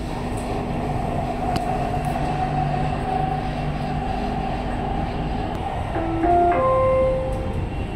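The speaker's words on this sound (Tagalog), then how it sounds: "Tapos ang train pala dito sa Dubai is wala siyang driver." Driverless Dubai Metro train at a station, a steady rumbling hum of the rail car with faint squeals and tonal whines rising near the end, no talking.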